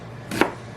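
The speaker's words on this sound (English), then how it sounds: "slice going the other way about 1/8 of an inch." A single sharp chop as a knife slices through an onion onto a cutting board, one brief close thud standing alone in a quiet kitchen.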